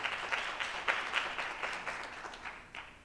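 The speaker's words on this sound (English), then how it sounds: "Give them a hand clap for that." Audience members clap at a maternal mental health summit, a fairly quiet, loose applause with individual claps standing out in an uneven rhythm over a few seconds.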